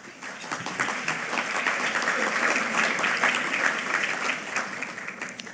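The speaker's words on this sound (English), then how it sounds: "I was going to ask you to delay your applause until the next statement" Audience applause at a parliamentary luncheon keynote address by a premier, dense steady clapping from a large crowd filling the whole stretch at even loudness with no speech over it.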